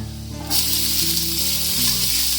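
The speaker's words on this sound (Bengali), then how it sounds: "এবার পেঁয়াজটাকে হালকা ব্রাউন করে ভেজে নেব" Chopped onion drops into a pan of frying garlic and bursts into a loud, continuous close sizzle that holds steady after a quieter start, with no talk.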